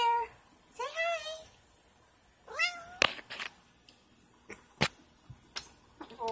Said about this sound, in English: Say hi, Snorts. Say hi, Daphne. Meow.